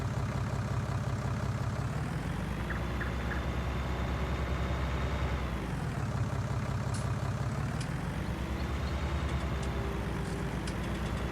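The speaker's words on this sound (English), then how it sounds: "Well, the tractor did start up." A tractor engine in Farming Simulator 19 runs steadily with a low, heavy drone that rises and falls in pitch a couple of times as it revs, close and continuous with no talk over it.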